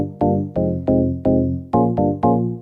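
Organ house stab chords played on a Roland D-20 synthesizer, a run of punchy, bright chord hits with quick decays in a bouncy rhythm, clear and upfront with no voices.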